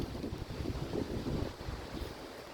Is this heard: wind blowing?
yes